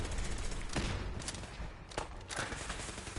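Pistol fire in Fallout 4, with a few separate sharp shots spaced irregularly over a steady background of game noise.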